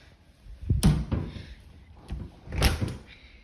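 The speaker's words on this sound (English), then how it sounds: "then you go in the front door" Front door of a house opening and closing, two separate dull knocks and thuds about two seconds apart with a faint rattle of the latch, fairly close, no talking.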